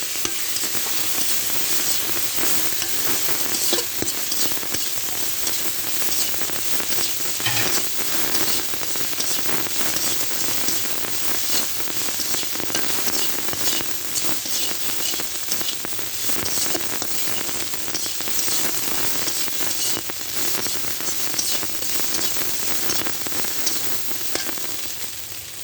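Papaya and bitter gourd frying with prawns, a dense, even hissing sizzle like steady rain that holds at a constant loud level throughout, with faint stirring clicks underneath.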